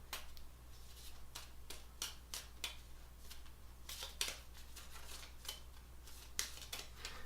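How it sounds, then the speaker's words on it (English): A hand of Marvel Legendary cards being shuffled, faint close crisp riffling and snapping card sounds in irregular bursts over a low steady hum, no talk. "Now you will shuffle your hand."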